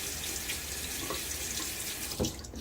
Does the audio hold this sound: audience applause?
no